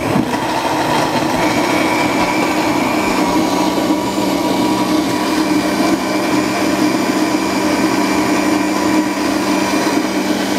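Dried chilies are ground in a motorized grinder that gives off a continuous, fairly loud whirring drone, with no pause and no voices throughout.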